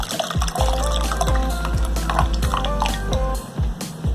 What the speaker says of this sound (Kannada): ಆದ್ಮೇಲೆ ಸ್ವಲ್ಪ ತಣ್ಣೀರು ಹಾಕಿದ್ರೆ ಸಾಕು.